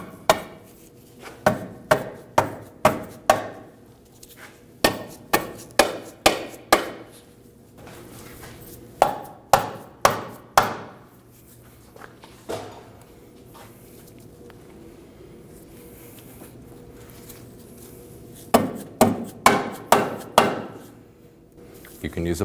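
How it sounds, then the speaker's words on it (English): Rubber or plastic mallet striking the front lower control arm on the underside of a 2013-2015 Subaru XV Crosstrek, heard as loud, close, sharp blows in quick bursts of four to six, separated by pauses. "Using a rubber or plastic mallet, you can strike the control arm on the underside to get it in place."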